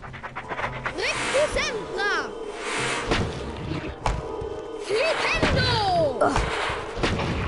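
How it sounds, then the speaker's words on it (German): Explosion blast in the Harry Potter and the Chamber of Secrets video game, a heavy burst of crashing thuds mixed with game effects and music, under a voice talking. "Achso, das explodiert sogar"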